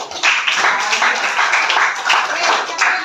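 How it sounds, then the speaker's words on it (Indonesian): A classroom of students claps together in a quick, even rhythm. The steady, close applause runs unbroken from start to finish, with faint voices mixed in. "Oke, tepuk tangan dulu."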